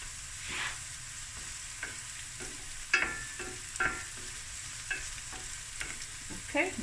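Chopped garlic frying and being stirred in a pan while making seafood rice, with a steady soft sizzle and intermittent scraping stir sounds, fairly close and without talk.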